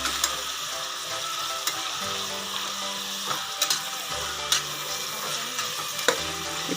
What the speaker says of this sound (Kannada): ಈ ತರಕಾರಿ ಎಲ್ಲ ಸ್ವಲ್ಪ ಫ್ರೈ ಆಗಲಿ.